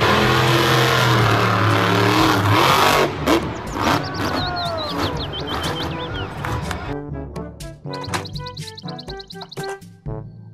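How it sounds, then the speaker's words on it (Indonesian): A monster truck engine revs with a loud, close roar for the first few seconds, then drops into fainter bursts and chirpy tonal sound effects that trail off toward the end. "Mobil truk monster."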